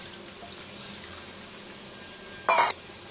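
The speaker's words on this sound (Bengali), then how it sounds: "এবার টকের ঝোল অনুপাতে সেইভাবে আরেকটুখানি জল দিয়ে দেবো" Water splashes briefly into a tangy rohu fish curry made with dried mango, a short bright pour near the end after quiet kitchen background.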